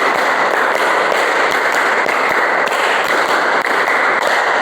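An audience in a school lesson claps through a counted clapping game, dense rapid hand claps forming a loud continuous patter with a faint pulsing rhythm and no talking.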